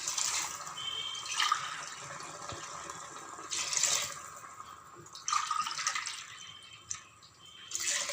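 Water poured from a glass onto rice in a cooking pot for ghee rice, a steady splashing run broken by short louder pours at a few points, close up with no talk.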